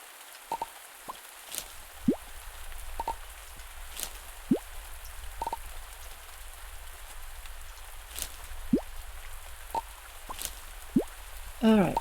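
Rain in the farming game Pumpkin Days makes a steady soft patter throughout, with occasional bright plinks and a short tonal chime near the end.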